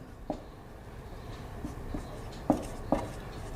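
Chalk or marker writing on a classroom board during a maths lesson, a few distinct taps and short scratchy strokes spaced apart, the last two sharpest, over a faint room hum.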